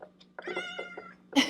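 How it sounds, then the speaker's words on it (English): A cat gives a few close, short meows with a strained, caterwauling edge in a quiet indoor room, ending on a sharper, louder cry. "you guys hear that cute meow?"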